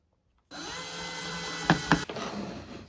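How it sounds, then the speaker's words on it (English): A power drill whirs steadily at close range, drilling a hole for a router lift, with two brief louder grinding catches near the end before it spins down. "Once I drill the hole out"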